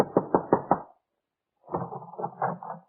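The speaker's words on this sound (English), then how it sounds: "Your hand trembles as you knock on the door." Four sharp, evenly spaced knocks on an apartment door, close and distinct, in a 1940s radio drama, followed after a pause by muffled voices talking.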